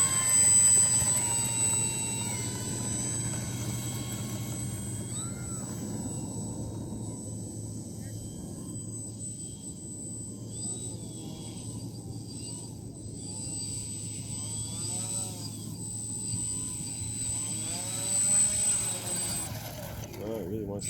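A model Pitts biplane's engine drones steadily as the plane taxis, with a constant high whine that shifts slightly in pitch throughout.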